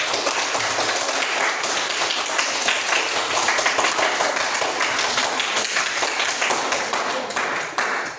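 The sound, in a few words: applause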